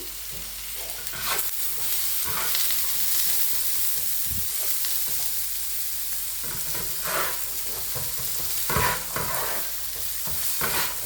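Onions sautéing lightly in a pan for mutton kothu roti, a steady close sizzle with intermittent scraping and stirring clatters throughout.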